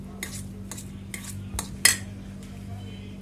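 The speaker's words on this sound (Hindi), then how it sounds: "देखिए, मैं इसमें हरी मिर्च डाल दूंगी और इसको मिक्स कर दूंगी इसके अंदर।" A spoon mixes chopped green chili into a bowl of crushed paneer filling, giving soft scattered clinks against the bowl and one sharper metallic knock, close and without speech.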